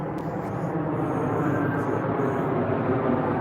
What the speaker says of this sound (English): Another plane. They lining up.